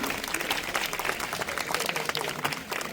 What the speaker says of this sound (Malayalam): സംഘാടകർക്ക് ഒരു വലിയൊരു കയ്യടി കൊടുത്തുകൊണ്ട് തന്നെ നമുക്ക് തുടങ്ങാം